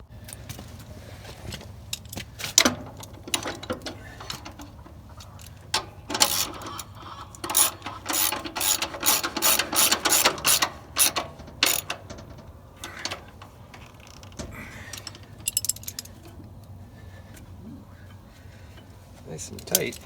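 A ratchet and bar tighten the blade tension on a band saw that has blade tracking problems. Rapid bursts of clicking and metallic clanks come close up, pausing between strokes.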